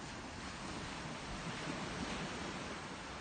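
Ocean waves wash onto a beach along Boston's North Shore on a morning walk, a steady broadband rush of surf mixed with wind buffeting the microphone, with no voices.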